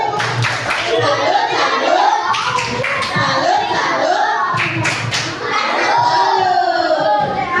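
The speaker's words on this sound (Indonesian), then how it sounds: "Yuk bareng-bareng. Tepuk salut." Children clap a patterned 'tepuk salut' routine together in a classroom, rhythmic group claps and slaps in short bursts mixed with chanting young voices, close and lively.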